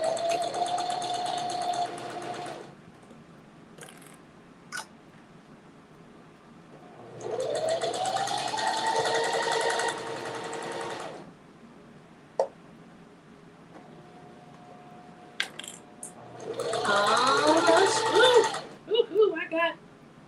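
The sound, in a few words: sewing machine stitching a fabric basket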